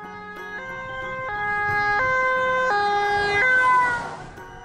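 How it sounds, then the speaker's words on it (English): Ambulance siren wailing in stepped tones that rise and fall, loud and close, ending with a brief sweep as the vehicle sound fades. "A is for ambulance."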